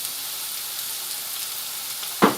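Chopped carrots and potatoes frying in a pan for pork and vegetable curry give a steady, soft hiss, broken near the end by a single sharp knock or stir.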